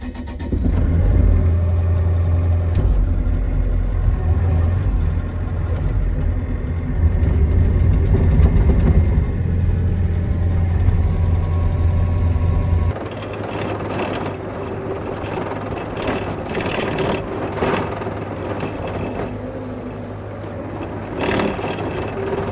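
An excavator's diesel engine runs loud and steady outdoors, with a strong low rumble that shifts partway through into a rougher, varying drone as the machine drives off, continuing without any talk.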